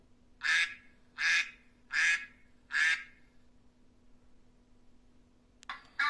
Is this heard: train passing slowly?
no